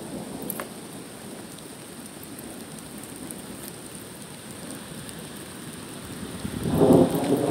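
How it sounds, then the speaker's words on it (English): Rain falls steadily as a constant hiss with a low rumble of thunder underneath, and a heavier crack and roll of thunder builds loudly near the end. "Trying to beat the rain."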